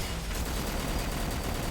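Rapid incendiary gunfire in the action game Wanted: Dead, a dense continuous burst of fast overlapping shots lasting under two seconds, loud and close, with no talk.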